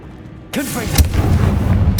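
A Confringo fire spell exploding in Hogwarts Legacy, one loud burst that breaks in suddenly and then rumbles on with a heavy crackling roar, with a brief call over the start.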